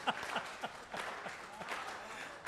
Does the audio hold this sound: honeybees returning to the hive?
no